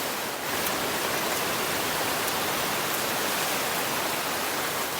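Waterfall rushing in a steady, dense roar, loud and close, continuous throughout with no talk.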